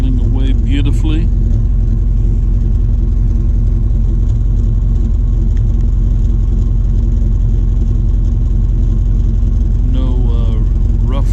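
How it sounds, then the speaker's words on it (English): A car engine idles smoothly and evenly after a fuel injector rebuild, a loud, steady low rumble that goes on throughout, with someone talking briefly over it at the start and near the end. "it is idling away beautifully."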